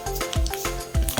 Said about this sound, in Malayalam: എണ്ണ ചൂടായി കഴിഞ്ഞാൽ കടുക് ഇട്ട് കൊടുക്കുക.